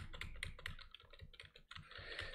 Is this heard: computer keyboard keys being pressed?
yes